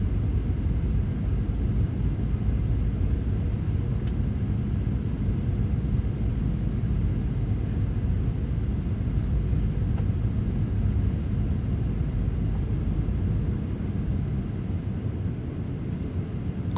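A JAL Boeing 737 landing at Misawa air base, heard from inside the cabin: a loud, steady, low roar of engine and airframe rumble fills the whole stretch without a clear break.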